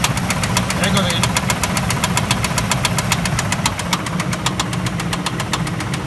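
Ford F-150 Expedition engine with a spun bearing knocking steadily, a rapid regular metallic tapping over a loud continuous engine drone, close and sustained throughout.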